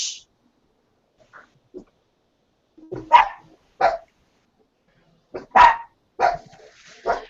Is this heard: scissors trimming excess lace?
no